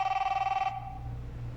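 A telephone bell rings in a TV commercial, a bright rapid trill that lasts well under a second and then stops, leaving only a faint low background hum.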